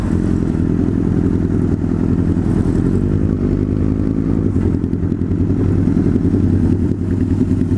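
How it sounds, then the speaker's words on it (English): A Harley V-Rod motorcycle with a blown-out exhaust baffle is ridden on the road, its engine a loud, steady, throaty drone that stays close and unbroken throughout. "he's gonna head out his bike. He doesn't want to ride it too much with a missing baffle"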